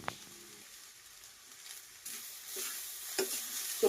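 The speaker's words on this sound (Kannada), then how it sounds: "ಸೊ ಈಗೆಲ್ಲ ವೆಜಿಟೇಬಲ್ ಫ್ರೈ ಆಗ್ಯಾವ. ಈ ಟೈಮಲ್ಲಿ ರೈಸ್ ಹಾಕೋಬೇಕು. ಸೊ ರೈಸ್ ಹಾಕೋತೀನಿ." Vegetables and rice for veg fried rice sizzle and fry in a pan, soft steady frying noise with occasional louder stirring scrapes and clinks, close and moderate in level.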